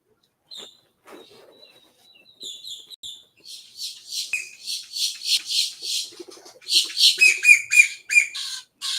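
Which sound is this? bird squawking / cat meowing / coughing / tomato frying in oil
bird squawking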